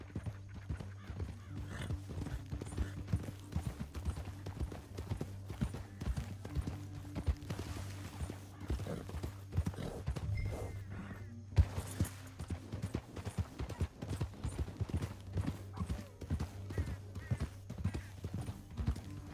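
Steady rhythmic clip-clop of horse hooves trotting over ground in the video game Red Dead Redemption 2, continuous and fairly close, with faint background clatter.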